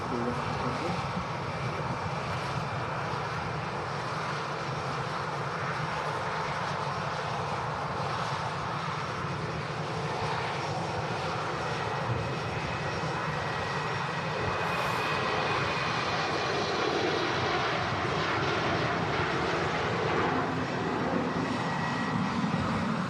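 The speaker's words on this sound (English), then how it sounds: "the Embraer 190 heading off to Helsinki" An Embraer 190 jet airliner takes off from Manchester Airport, a broad, steady engine roar sustained throughout at moderate distance, with no break in the noise.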